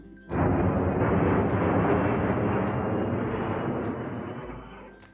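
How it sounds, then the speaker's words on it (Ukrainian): A loud, broad roar of an airplane engine, steady and close, slowly easing off toward the end. "Сподіваюся, ви впізнали літак."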